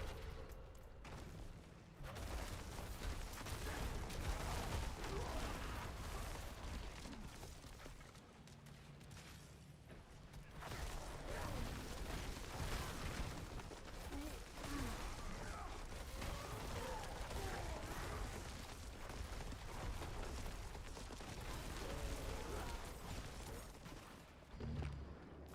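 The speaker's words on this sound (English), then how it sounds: "And those explosions." Repeated explosions and bursts of fire from a Diablo-style action game with a Werebear Druid using earth pulverize and storm skills, a dense, continuous stream of booms and impacts running loud throughout with brief dips in intensity.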